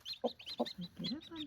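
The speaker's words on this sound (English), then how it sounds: "She's got 9 chicks under her." A broody hen sitting on nine chicks makes soft, low clucks at close range, mixed with thin, high peeping in a quiet setting.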